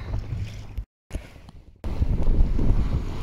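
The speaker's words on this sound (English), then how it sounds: "the wind has kicked up" Strong wind gusting over the microphone on open sea during a rainy-day kayak paddle off the Devon coast near Torquay, heavy low rumbling buffets broken by two brief dropouts, then building louder and steadier.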